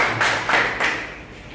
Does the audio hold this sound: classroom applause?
yes